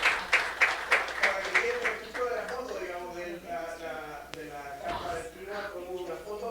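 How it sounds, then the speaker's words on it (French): An audience at a regional meeting applauds ministers and organisations, a burst of rhythmic clapping in the first couple of seconds that fades beneath someone speaking in French. "un applaudissement à tous les ministres et organismes qui sont ici"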